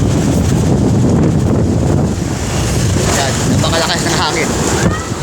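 Strong wind from Typhoon Marcy roars continuously near Santa Ana at the northern tip of Luzon, buffeting the microphone loudly, with a faint voice heard briefly under the gusts.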